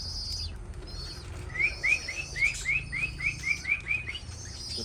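Birds call in a quick series of about ten bright, rising chirps at an even rhythm, moderately close over a steady low background hum, with fainter calls in the distance; pigeons are kept here.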